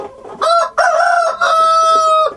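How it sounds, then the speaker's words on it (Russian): A rooster crows loudly and close in one long, strained cock-a-doodle-doo broken into three sustained segments, standing alone without any talk. "Пернатый будильник по утрам кукарекает в одно и то же время"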